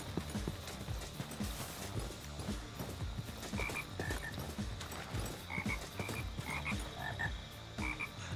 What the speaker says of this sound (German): Ich höre halt Haufen Frösche hier.